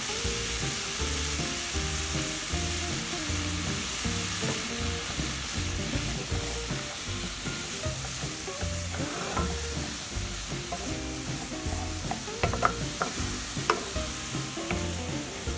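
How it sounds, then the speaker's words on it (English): Seasoned ingredients with all-purpose seasoning and black pepper sauté in a pot for a stuffed turkey breast Thanksgiving dinner, giving a steady close sizzle and frying hiss with occasional stirring clinks, no talking. "I'm just going to leave this for 5 minutes to saute"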